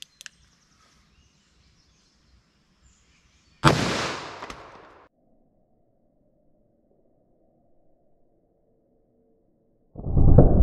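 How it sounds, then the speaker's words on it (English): A single loud .44 Magnum gunshot firing a 180 grain XTP bullet cracks close by and decays over about a second, followed by quiet and a second burst of noise near the end. "44 mag, let's see what this does"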